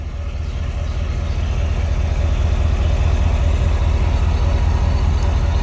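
A 2015 GMC Yukon SLT idles with a low, steady exhaust rumble heard close by, quiet and even throughout, no voices.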